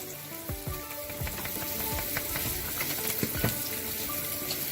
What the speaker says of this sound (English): while our vegetables are sauteing